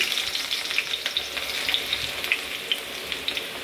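Onions sizzle and fry in hot oil in a pan for a Chalakudy-style dish with mustard seeds, a steady close crackle with small pops throughout and no voices.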